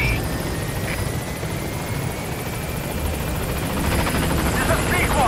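A military helicopter flies in toward a landing zone in Metal Gear Solid V: The Phantom Pain. Its steady rotor thrum and engine drone are loud and continuous, and a radio voice speaks over it.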